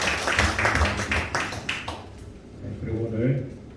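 At a church service, a congregation claps in thanks, a quick run of rhythmic claps that fades out while a voice keeps talking over it.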